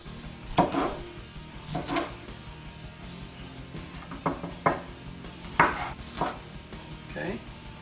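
A knife slicing green peppers on a board, a handful of sharp, separate chops and cuts at uneven intervals, close and crisp over a quiet background.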